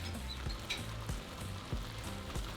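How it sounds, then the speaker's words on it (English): Corn tortillas dipped and frying in oil on a discada disc beside pushed-aside meat, giving a steady close sizzle with soft repeated low thumps as pieces are moved. "Dip your tortillas in the oil."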